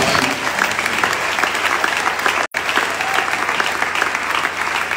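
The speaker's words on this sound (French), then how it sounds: "Est-ce qu'on peut acclamer pour Papa?" A church congregation claps and cheers for Papa, dense sustained applause filling the hall with a brief cut midway, then the clapping continues.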